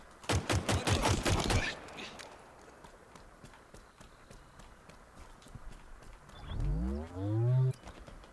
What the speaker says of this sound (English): Look at this. I'm shooting.